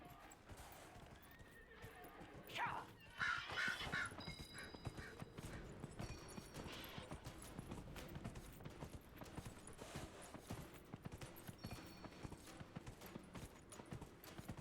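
A horse in Dragon Age Inquisition, with quick rhythmic hoofbeats of galloping running steadily throughout and a clear neigh near the start, the whole scene fairly quiet.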